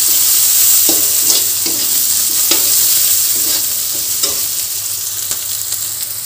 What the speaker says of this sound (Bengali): একটু হালকা ভাজা ভাজা করে নেব